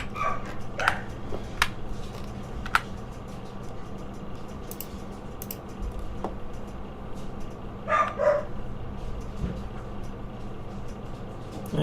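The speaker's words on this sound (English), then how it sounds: "I hear dogs barking." Dogs bark in short, separate bursts at a moderate distance over a steady low background hum, a few yips scattered across several seconds in the game RimWorld.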